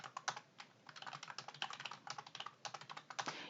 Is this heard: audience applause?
no